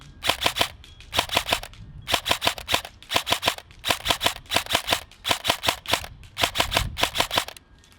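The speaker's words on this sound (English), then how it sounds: "So I shoot mostly in double taps and triple taps" Lancer Tactical Warlord M4 airsoft rifle firing crisp, close cracks in rapid paired and tripled bursts, a steady rhythm of quick groups repeating across the stretch with short pauses between them.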